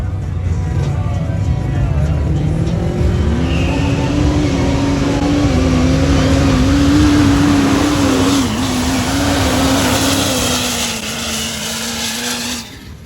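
Modified trucks at a mud bog rev their engines hard, a loud sustained roar climbing in pitch and holding near the top before easing off toward the end, heard up close without talk.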